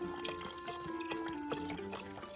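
Vegetable broth pours into a roux with chicken, sour cream and hot sauce in a pot, giving a soft, continuous liquid splashing and dripping sound with a faint ringing tone, close and moderately quiet.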